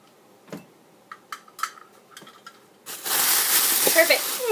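Flour batter mixed in a bowl, first sparse soft taps and clinks of a utensil, then a steady close wet stirring rush that carries on to the end.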